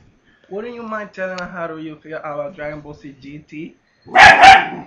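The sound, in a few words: dog barking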